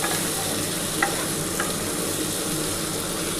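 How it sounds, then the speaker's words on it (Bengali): Cauliflower being stir-fried for a prawn curry sizzles briskly and continuously in the pan, close up, with a couple of faint scraping stirs and no talking. "ফুলকপিটা দিয়ে একটুখানি ভালো করে কষিয়ে নিই।"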